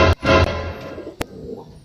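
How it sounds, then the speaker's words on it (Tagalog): A pigeon sits in a training box and gives a few soft, low coos close by near the start, followed by a single sharp knock and quiet rustling. "Nakalagay sa training box, may bago tayong ibon."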